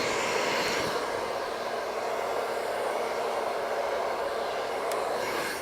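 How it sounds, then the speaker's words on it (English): A hair dryer blows steadily down a hair shaft during styling, a loud, continuous rushing whoosh heard close up with only slight shifts in tone as it moves. "making sure you're blowing down that hair shaft."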